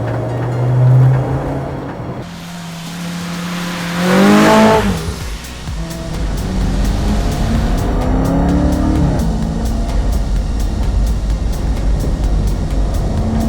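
A Formula Woman race car lapping Cadwell Park circuit, its engine roaring and rising in pitch through a brief surge, then settling into a loud, steady drone with a faint tire squeal, heard up close with no talking.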